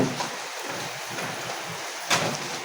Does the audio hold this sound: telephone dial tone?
no